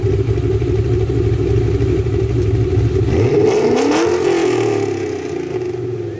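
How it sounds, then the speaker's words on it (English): A Ford Mustang accelerating hard as the gas is pressed: a loud, near engine rumble rises into a sweeping rev, then fades as the car pulls away. "when he hits the gas pedal."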